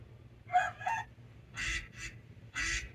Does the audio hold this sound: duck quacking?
yes